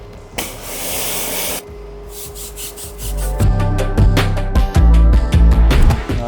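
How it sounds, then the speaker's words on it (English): A car tire is rinsed with a water spray after being scrubbed with tire cleaner and a stiff bristle brush. Loud, close spraying and splashing shift as the stream moves across the rubber, with thumping knocks toward the end. "Okay, I'm gonna rinse it off."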